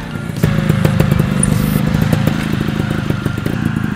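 A trials motorcycle rides through a competition section, its engine a low, close putter with uneven bursts and clattering knocks as it picks its way forward, starting quietly then loud throughout.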